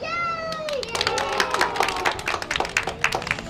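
A group of children clap and cheer together, a burst of many overlapping hand claps with excited voices, following an adult's prompt and tapering as voices carry on.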